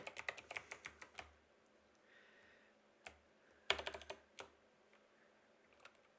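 Fingers type on a computer keyboard, close and fairly quiet, in quick clusters of key clicks separated by short pauses.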